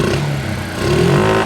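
A small engine in a home-built mini 4x4 with a carburetor fault runs steadily and loudly up close, its note climbing briefly in revs midway before settling back.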